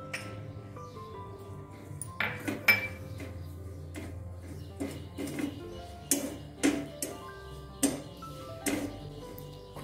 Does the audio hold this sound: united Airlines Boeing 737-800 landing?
no